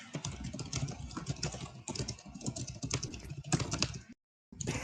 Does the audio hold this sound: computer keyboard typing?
yes